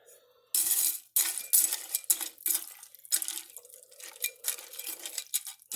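Canned carrots are stirred into a pot of hot water, a spoon clinking and scraping against the pot in irregular close bursts with faint watery sloshing between them.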